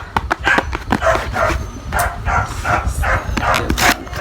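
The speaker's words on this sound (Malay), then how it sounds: "Ni anjing-anjing jiran mekak" The neighbours' dogs bark repeatedly, loud and fairly close, in an uneven string of sharp barks over a noisy low background with no talk.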